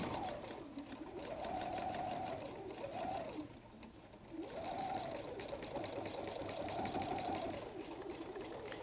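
A sewing machine with a sharp 90/14 needle stitches through thick layers of faux suede on a messenger bag, running steadily and close with a whirring hum whose pitch dips and rises as it slows and speeds up.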